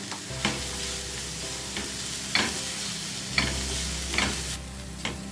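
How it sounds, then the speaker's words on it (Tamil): Onions sautéing with salt in a pan for a macaroni dish, a steady close sizzle broken by several sharp stirring scrapes at irregular intervals, with no talking. "வெங்காயம் வதங்குறதுக்காக கொஞ்சம் உப்பு சேர்த்து இதை வதக்கிடலாம்."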